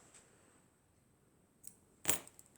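Scissors cut crochet yarn in one sharp, close snip, preceded by a faint click, against a near-silent background.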